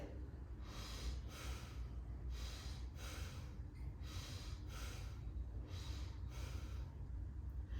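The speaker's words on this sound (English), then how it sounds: "Bhastrika, the bellows breath." Bhastrika bellows breathing, forceful yogic breaths, heard as about seven rhythmic loud nasal exhalation bursts roughly once per second over a quiet background, with no talking.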